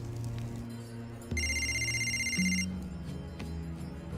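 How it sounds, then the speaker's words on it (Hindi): A telephone bell rings in a scene from the Bollywood action film Crakk: one bright, steady electronic ring lasting just over a second, heard clearly over a low background score. "आपका फोन है।"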